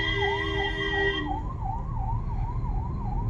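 Ambulance siren wailing in a steady rising-and-falling sweep on a busy town street in Paramakudi, continuous and fairly close, with a layer of traffic rumble beneath and extra tonal horns fading out early.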